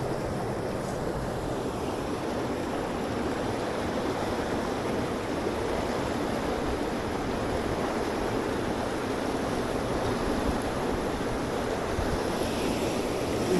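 Near Pokhara, the Seti River runs in a continuous broad roar of moving water, unbroken and fairly loud, heard alone with faint wind buffeting the microphone.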